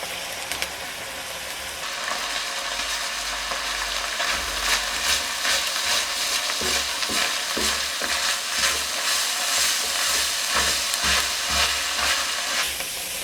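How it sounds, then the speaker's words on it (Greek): Thyme and hot pepper sauté in a hot pan, with a continuous close sizzle and frying hiss broken by repeated scraping stirs, no voices. "Θα σοτάρω για 1 λεπτό ακόμη"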